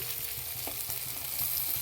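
Potato and carrot pieces frying with half-fried onion and garlic in a pan for homemade chow mein, a steady close sizzle with light stirring scrapes throughout.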